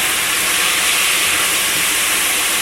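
Garlic sautéing in a pan for Portuguese caldo verde gives a steady, loud, even hiss that runs without break throughout, with no voices.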